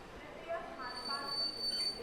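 Train noise at Nizamuddin railway station in Delhi: a low, steady rumble of rail cars with a thin, high metallic squeal drawn out above it, moderately quiet and continuous.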